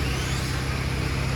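A toy RC car drives along with a brief, continuous buzzing motor whir, fairly loud and close, with no talking.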